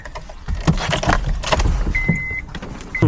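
A car engine starts up on an overcast day, a mix of key jingle, starter cranking and irregular mechanical noise close by, with a brief tonal whine partway through.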